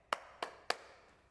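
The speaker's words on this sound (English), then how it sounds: "So can I just get you to clap 3 times just to sync up the audio and the camera?" Three sharp hand claps spaced evenly about a third of a second apart, close and clear in a quiet room, used to sync sound with a camera.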